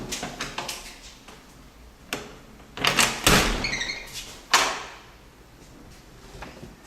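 An apartment door is handled at close range: a latch clicks and rattles, the door swings open, then comes back and shuts with a firm thud, followed by quieter knocks and shuffling.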